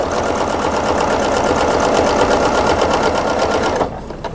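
A sewing machine stitches steadily through a quilted table runner guided along a ruler foot, a loud, fast continuous whir that runs for nearly four seconds and then drops away as the needle stops.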